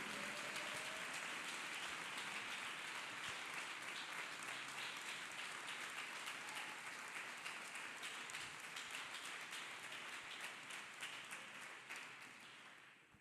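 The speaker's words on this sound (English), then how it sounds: "Clap hands for the master healer." Worshippers clapping their hands together during a church healing service, a dense, steady wash of crowd applause that fills the space and fades slightly toward the end.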